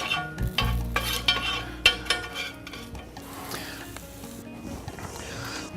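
Mushrooms fry in a pan while a utensil stirs and scrapes against it, clinking sharply several times over a soft sizzle at close range.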